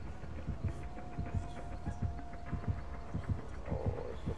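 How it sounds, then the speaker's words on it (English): In the Dead by Daylight video game, a heartbeat warning sound thumps in a steady low double-beat rhythm throughout, continuous under ambient game noise. "Heartbeat's still going."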